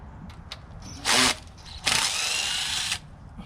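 A power drill whirs in two close, loud bursts while backing screws out of a rusted, rotten closet unit salvaged from the curb, a short spin then a longer run of about a second.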